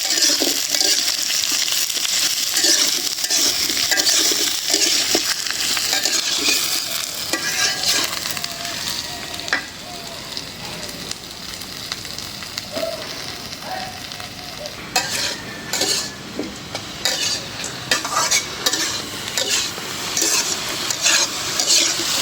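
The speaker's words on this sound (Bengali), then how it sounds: "এখন দিয়ে দিব পেঁয়াজ আলু পেঁয়াজটা একসাথে ভাইজা নেবেন" Onions and potatoes fry together in a pan while being stirred, giving a steady close sizzle broken by scraping and clinking of the utensil, with no talking.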